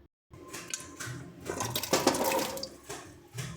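Young jackfruit and potato pieces dropped into hot water in a pressure cooker, a few close splashes and watery sloshing after a brief silence, moderately quiet, with no talking.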